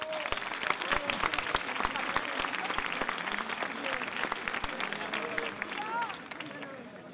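Applause from an audience at a village festival proclamation event, many hands clapping in a brisk, dense patter with crowd murmur and some voices mixed in, tapering slightly at the end.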